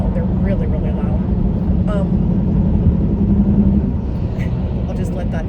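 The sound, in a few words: loud trucks passing outside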